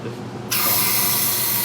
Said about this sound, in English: You only sprayed propellant there.